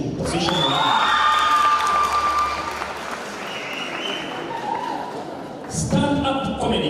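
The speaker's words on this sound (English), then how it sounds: "a round of applause" Crowd applause and cheering at a drama festival award ceremony at Kasarani, Nairobi, with loud sustained clapping, whoops and shouts filling the hall, easing in the middle and then surging again near the end.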